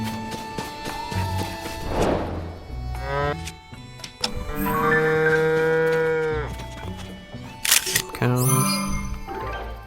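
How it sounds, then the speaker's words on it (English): Long, deep cow moos from a Legend of Zelda village, several drawn-out calls with clicks and clatter of game sounds between them, close and fairly loud. "Cows."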